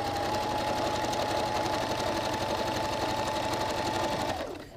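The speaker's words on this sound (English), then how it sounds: "Now, I'll baste up to where this pin went in. So go back to basting stitch" A sewing machine runs steadily at long basting stitch length along a jacket lining seam, a fast even whirring rattle up close that slows and stops at the end.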